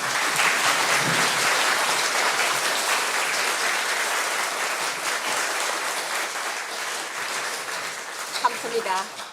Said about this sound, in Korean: 스위니 교수님과 박성호 신부님 두 분을 박수로 맞이하겠습니다.